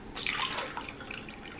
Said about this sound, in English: I'm gonna start pouring all of this stuff in the blender. So I'm gonna start with the evaporated milk.